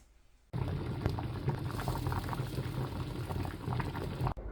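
Potatoes for mash bubble in a pot of boiling water, a steady close rolling boil with dense gurgling and popping that runs evenly from start to finish.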